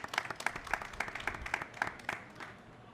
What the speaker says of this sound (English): Let's have a round of applause for all of our distinguished panelists.